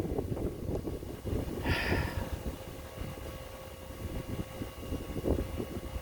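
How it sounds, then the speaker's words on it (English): Outdoor wind buffeting a microphone despite windscreens, low rumbling gusts rolling steadily throughout with a faint tonal hum underneath and a brief higher-pitched sound partway through. "Maybe the wind will cut back."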